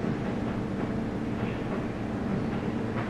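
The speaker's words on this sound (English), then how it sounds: "I don't know if you can hear it in the background, but it's currently raining" Rain falls steadily outside a home on a winter day, a soft, even, broadband wash that stays constant and fairly quiet for the whole stretch, with no talking.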